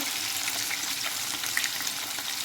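Chicken pieces fry in a non-stick pan with a steady, close, dense sizzle that holds evenly throughout, with small crackles scattered on top.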